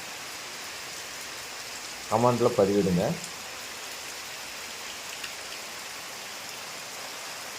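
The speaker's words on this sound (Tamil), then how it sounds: "எவ்வளோ அழகாக இருக்குது பாருங்கள், மழை பெய்யுது." Steady rain falls continuously in a village, a dense even hiss throughout, with a short spoken phrase in the middle.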